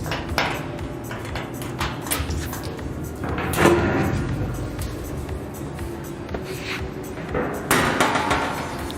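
Someone unlocks and opens the doors of a commercial non-continuous marinating vacuum tumbler, producing metallic clicks, scattered knocks and a heavier thump midway, with faint talk in the background.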